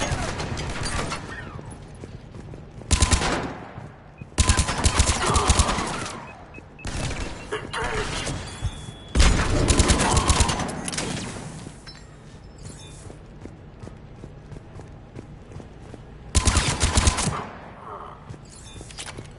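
Bursts of automatic gunfire in the video game Mass Effect 3, several loud sustained volleys separated by short lulls, with a voice calling out between shots.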